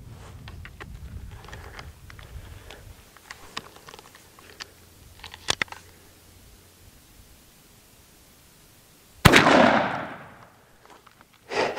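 A Stevens 301 .410 turkey shotgun fires a Foxtrot Ammunition TSS load of 9.5 shot, one sharp loud blast that trails off, heard outdoors after quieter handling noises.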